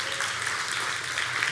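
A church congregation applauding an announced fundraising total, a continuous wash of many hands clapping in a large room, steady and moderately loud throughout the brief moment.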